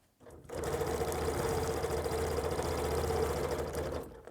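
A sewing machine stitches through fabric while quilting in from the edge, running as a steady, close, continuous mechanical hum for about four seconds before stopping.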